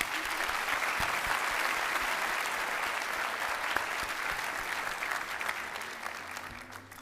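Continuous crowd applause at a 2025 academy commencement, many hands clapping evenly at moderate distance, gradually tapering toward the end.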